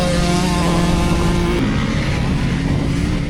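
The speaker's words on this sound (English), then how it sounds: "revving the bike high and keeping it at its max torque helped a lot" A Honda CRF250L or CRF300L dual sport motorcycle revs high while riding through dry, loose-dirt cornfields, a loud, sustained engine whine close by that shifts pitch partway through.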